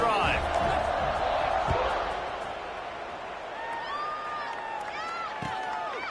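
A football stadium crowd roars in a broad, steady wash of cheering that eases off a little, while a commentator's voice talks over the noise.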